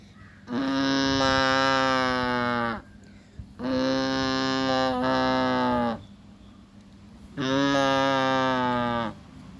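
A voice imitates a cow, giving three long, drawn-out moos separated by short pauses, loud and close.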